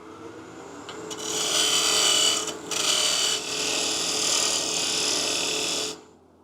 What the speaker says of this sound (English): So I'm just going to peel cut this all down,